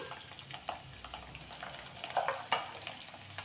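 Chopped garlic frying in oil over tempered whole cumin, a soft continuous sizzle with light scraping stirs and a few sharper crackles, close and fairly quiet with no voices.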